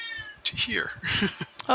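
A house cat meows loudly in the background during a tabletop role-playing game session, a couple of drawn-out, wailing meows heard beneath and between people talking.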